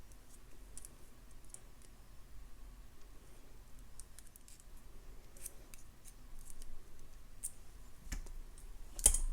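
Wire cutters snip excess wire on an agate bead necklace, giving a few faint, sharp clicks against quiet room noise, the loudest snip landing near the end.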